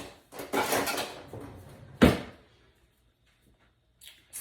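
Kitchen tongs being fetched, a rattling drawer slide and clatter of metal utensils, then one sharp clunk as the drawer shuts, followed by near silence and a faint final knock.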